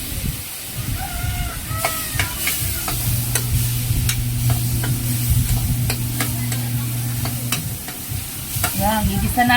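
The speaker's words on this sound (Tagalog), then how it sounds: "Yan, gigisa natin yan, guys." Vegetables sautéing in a pan for pinakbet with lobster: a constant loud sizzle with repeated stirring scrapes and clacks, plus a low steady tonal hum partway through.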